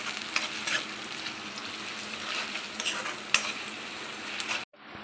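Onions fry in a pan for mutton keema curry, a steady close sizzle with stirring and light utensil scrapes throughout, cutting off abruptly at the end.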